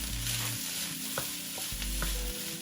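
Rice deep frying in hot grease, a continuous dense sizzle with low bubbling rumble and a few sharp clinks of stirring against the pot, close and alone without talk.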